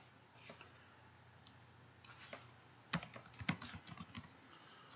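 Fingers type on a computer keyboard in a quiet room, a few scattered key clicks followed by a faster burst of close, crisp keystrokes entering a web address.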